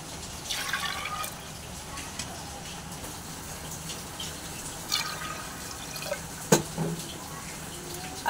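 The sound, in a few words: pouring water into pot with potatoes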